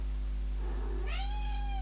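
A cat meows once indoors, a drawn-out rising-then-falling call heard close and clear over a steady low electrical hum, with no talking.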